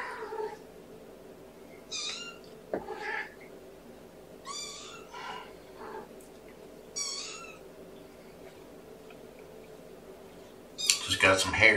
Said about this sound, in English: meowing out there.